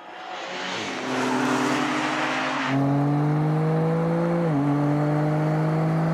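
Alpina B3, BMW M3, M340i and M340d Touring estates launching side by side in a drag race, a loud broad engine roar with tyre noise that drops into steady climbing engine drone and a gear change.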